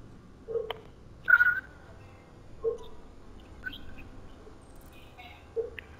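Escaped birds from a knocked-down cage in the Detroit: Become Human video game, giving sparse, separate chirps and calls spaced a second or two apart over a quiet background.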